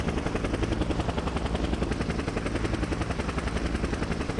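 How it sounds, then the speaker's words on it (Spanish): Helicopter in the video game Just Cause, its rotor throbbing as a dense, steady rhythmic chop that stays loud and close for the whole stretch, with no voices. "viene el helicóptero por mí"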